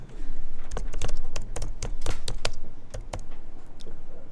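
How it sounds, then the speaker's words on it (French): Keys on a computer keyboard clatter in quick, uneven bursts of sharp clicks, close and clear, during InDesign page layout work, with short pauses between runs. "je tape en anglais"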